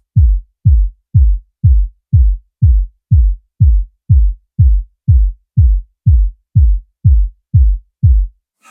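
Processed low-end kick drum from the beat, high end stripped away, thumping seventeen times in an even, steady pulse, deep and loud with nothing else around it.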